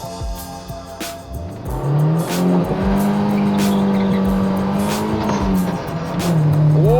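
A Toyota Levin with a swapped 3S-GTE engine and manual gearbox accelerates hard with wheelspin. The loud, close engine note climbs through the revs under a spinning-tire squeal.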